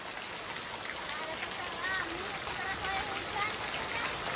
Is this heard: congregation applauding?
no